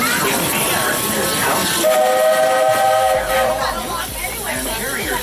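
A Walt Disney World Railroad train arriving at the Frontierland station in Magic Kingdom rumbles and hisses with a loud, steady roar, and a whistle sounds for about a second partway through.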